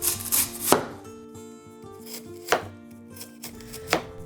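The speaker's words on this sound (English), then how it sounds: "Then cut it into about 3mm slices." Lotus root is chopped into thin slices on a cutting board, with three sharp, close knife strikes spaced apart and a faint tonal hum running steadily underneath.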